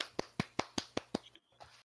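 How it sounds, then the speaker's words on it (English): A single person claps hands six times in a steady, even rhythm, with crisp, fairly quiet claps close by, then a couple of softer sounds before silence. "I'm clapping."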